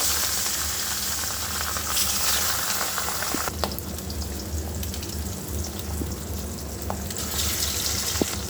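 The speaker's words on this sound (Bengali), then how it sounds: "মাছগুলো লাল লাল করে ভেজে তুলে নেব" Fish pieces frying in hot oil in a wok, a loud continuous hiss and crackle with occasional spatters and a brief dip midway, no talking.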